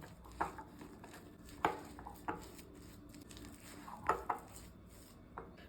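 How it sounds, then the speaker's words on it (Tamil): Mango paste being stirred into waffle batter in a bowl gives soft squishing and scraping with a few sharp clinks of a utensil against the bowl, close but fairly quiet, with no talking. "இப்போது நம்ம இந்த அரைச்சி வச்சுருக்கிற மாம்பழ பேஸ்ட்டையும் சேர்த்திக்கலாம் இப்போ இதை நல்லா மிக்ஸ் பண்ணிக்கலாம்"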